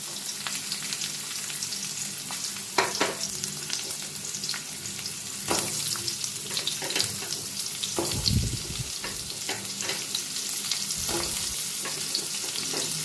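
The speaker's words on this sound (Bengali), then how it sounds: "ডাটা আলুটা আমি খানিকক্ষণ নাড়াচাড়া করব।" Drumsticks and potato pieces sizzle in hot oil in a pan while being stirred, giving a steady frying hiss broken by scraping strokes and a few louder clatters of the spoon, with no talking.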